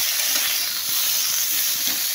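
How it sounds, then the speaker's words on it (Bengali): Spices frying in hot oil in a pan for a rohu fish curry, a steady bright sizzling hiss close up and continuous, with no talking. "একটু ভাজা হোক।"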